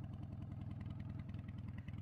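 A 1981 BMW R65 cafe racer motorcycle idles alone at low level, with a steady, even low pulsing engine note that holds throughout before a slight lift at the very end.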